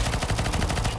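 Rapid automatic gunfire in a video game, a dense burst of close, loud shots in quick rhythm lasting about a second, with no talk.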